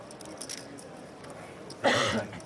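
One short, sharp cough close by after quiet background murmur, at a limit hold'em poker table during the 2005 World Series of Poker.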